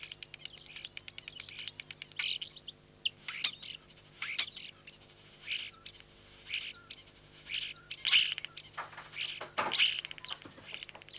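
A starling sings alone outdoors in spring, mixing whistles, chirps and rapid mimicked calls of other birds in irregular bursts at moderate distance over a faint steady background hum.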